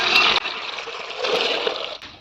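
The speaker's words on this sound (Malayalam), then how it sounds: "ഇത്രയും വെള്ളം മാത്രമേ ഒഴിച്ചിട്ടുള്ളൂ" Water gushes and splashes as it is poured over cleaned turmeric roots in a pot for boiling, a brief steady pour that breaks off and resumes.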